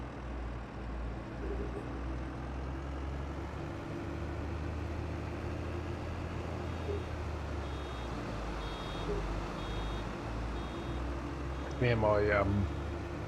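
Warning beeps from a baler in Farming Simulator 22 signal it is over 80% full, a short run of rapid tones near the end over a steady engine drone, with a voice speaking briefly.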